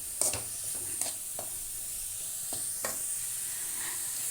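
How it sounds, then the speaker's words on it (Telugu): Onions fry with salt and turmeric in a pan for an omelette, a soft steady sizzle broken by a few scraping stirs, close and fairly quiet with no talk. "ఉల్లిపాయలు వేగాయండి"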